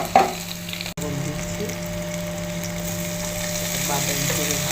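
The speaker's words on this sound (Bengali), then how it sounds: "রসুন, কাঁচামরিচ, পেঁয়াজ তিনোটা বাদামি করে ভাজবো" Garlic, green chilli and onion fry in hot oil until brown, giving a steady crackling sizzle that runs throughout, with a sharp click or tap near the start.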